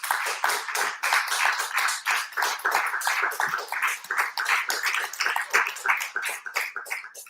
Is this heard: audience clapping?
yes